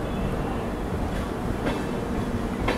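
The Garib Rath Express rolls out of the station with a loud, continuous rumble of railcars and wheels on track, rising slightly with faint rhythmic clatter.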